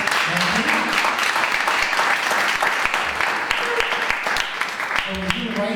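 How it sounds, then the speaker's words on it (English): A room of attendees at a Brooklyn forum on entrepreneurship and reentry claps for the district attorney's staff, a moderately dense round of applause with voices talking over and through it. "So let's have a round of applause for the rest of the staff."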